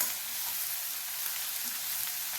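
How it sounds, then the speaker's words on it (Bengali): Mixed vegetables with cauliflower stalks frying in a pan as they are stirred, a continuous close hiss and crackle of oil with no talking. "এখন আমি সমস্ত সবজিগুলো দিয়ে দিচ্ছি ভালোভাবে আবার নাড়াচাড়া করে দিচ্ছি"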